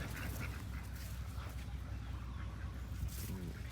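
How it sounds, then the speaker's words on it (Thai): Duck quacks sound faintly against a steady noisy outdoor background, with a slightly clearer call near the end. "เป็ด"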